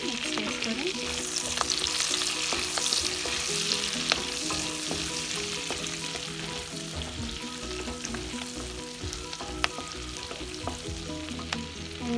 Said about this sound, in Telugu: దాల్చిన చెక్క, పువ్వు, కరివేపాకు, అన్నీ వేసుకొని మిక్స్ చేసుకొని